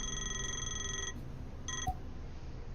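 A telephone rings in the horror video game Play With Me as a bright, harmonic electronic tone lasting about a second, then a second shorter burst after a pause, over a low ambient drone.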